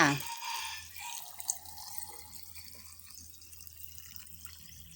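Pickling liquid pours and gurgles into a jar of pickled carrot and daikon radish, splashing at first and then settling into a soft trickle, close and quiet.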